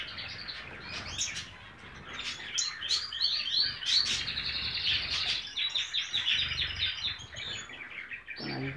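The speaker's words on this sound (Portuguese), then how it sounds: "Canais estão cantando hoje aqui," Several canaries sing close by, bright rapid trills and chirps overlapping almost without pause throughout.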